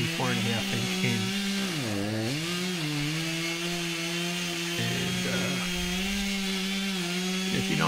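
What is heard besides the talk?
chainsaw making back cut in ash tree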